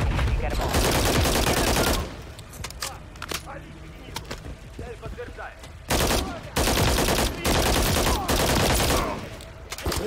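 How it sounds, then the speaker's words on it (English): Gunfire rattles from a bridge during a Call of Duty: Modern Warfare 3 campaign mission at a dam, loud sustained bursts broken by a quieter stretch, then heavy volleys again, with voices talking in between. "Watcher, I'm taking fire from the bridge."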